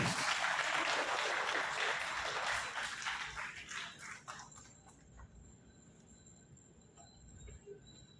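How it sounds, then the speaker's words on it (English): Audience applause at a Bicol University Graduate School recognition program: a dense, even clatter of many hands fills the hall, then thins and fades to a quiet room with scattered claps. "A round of applause, please."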